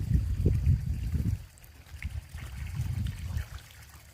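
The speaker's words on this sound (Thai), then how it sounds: "ก็น้ำก็ยังไหลดีอยู่นะ" Water draining out of a rice paddy, trickling and gurgling through a dug channel in uneven, bubbling surges, close by, with no talking.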